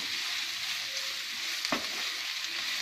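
Frozen mixed vegetables with peas stir-frying briefly in a hot pan, Chinese style, for a vegetable vermicelli pulao: a steady close sizzle with one sharp stir or clatter partway through, no voices.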